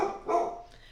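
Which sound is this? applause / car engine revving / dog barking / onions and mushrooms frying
dog barking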